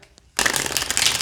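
A deck of Hedgewitch Botanical Oracle cards being shuffled by hand, a sudden close burst of riffling card flutter after a brief quiet moment, with no talk.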